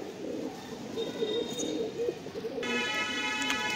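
Punjabi Malwai pigeons coo in soft, repeated low throaty calls close by, with light background noise and a faint high tone entering near the end.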